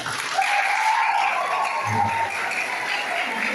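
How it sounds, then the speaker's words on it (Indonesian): Audience applause fills a church Christmas service of the Toraja Church congregation, a steady broadband wash of many hands clapping from start to end, with a brief low murmur partway through. "Yang beri tepuk tangan untuk panitia."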